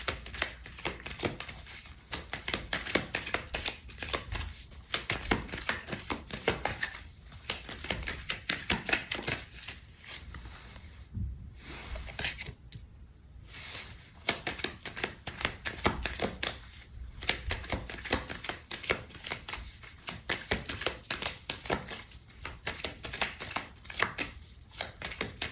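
Tarot cards are shuffled continuously, a dense papery riffle of rapid slaps and flutters with short pauses, close and steady, with no voices.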